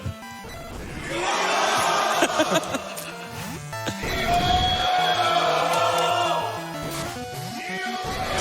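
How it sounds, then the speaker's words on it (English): Crowd at Summer Games Done Quick 2019 shouting "Dio" in unison, with loud cheering and hype over game music and battle sounds, swelling in bursts across the clip. "I want the crowd to just yell Dio"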